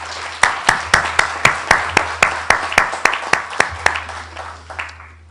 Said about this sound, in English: I would like to give you applause for the panel here